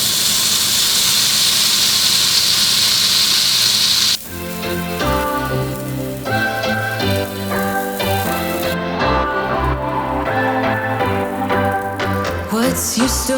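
Olive oil sizzling in a pan preheated on medium heat, a loud steady hiss for about four seconds before music takes over.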